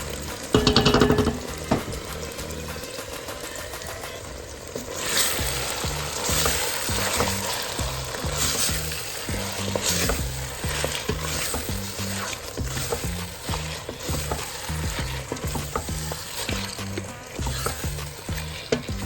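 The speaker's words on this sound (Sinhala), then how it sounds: "ඊට පස්සේ අපේ මැරිනේටඩ් චිකන් එක මේකට දාලා අපි ඒක හොඳට මික්ස් කරගමු." Marinated chicken for dum biriyani sizzles and fries in a pot while being stirred, with rhythmic scraping strokes repeating roughly every second over a steady crackle, loud and close with no talk.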